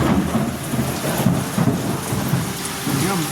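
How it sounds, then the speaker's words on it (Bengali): Steady rain pours on surfaces with low rumbles of thunder beneath, a continuous near wash of sound with no voices. "বৃষ্টি হচ্ছে দেখো"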